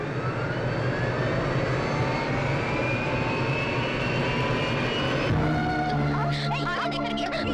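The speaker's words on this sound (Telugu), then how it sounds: "the flight is going to take off" A jet airliner's engines roar loudly and steadily as the plane takes off, a dense continuous rumble with a rising whine, and a shift in tone near the end.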